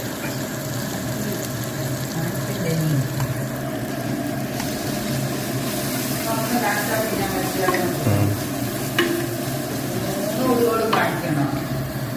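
Coriander powder and spices fry and get stirred in a pan, a steady close sizzle with scraping stirs, while a person talks over it throughout.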